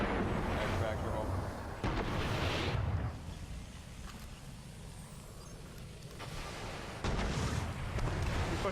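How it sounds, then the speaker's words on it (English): Rocket launcher blasts in the shooter game Destiny come as heavy, rumbling bursts, one around the start and another near the end, with broad roaring noise filling the gaps between them. "He's pushing you with rockets right now"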